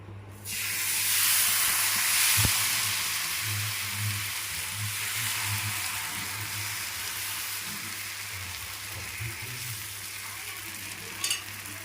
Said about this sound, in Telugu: బాగా కాలిన తర్వాత రెండో వైపు తిప్పేసుకుందాం